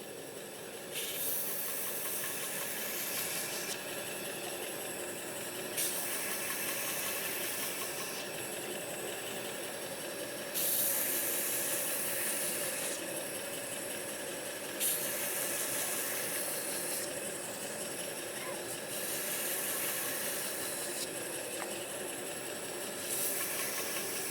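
A belt grinder steadily runs against a forged knife blade, stripping off forge scale at a knife show, giving a continuous loud hissing grind with faint periodic swells in pressure.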